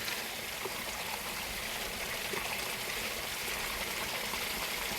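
Rainwater pours from a French drain during a storm, a steady rushing gush of flowing water that stays even and continuous throughout, with no voices over it.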